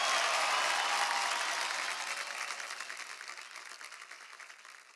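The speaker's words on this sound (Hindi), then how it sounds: "इनके लिए तालियां प्लीज." Audience applause, a dense wash of clapping that starts full and gradually fades over several seconds.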